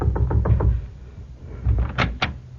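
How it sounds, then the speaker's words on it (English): Knocks on a door in a wartime radio drama, several quick raps in a short series, then a pause and two sharper, louder knocks, with no voices. "My guide knocked on the door."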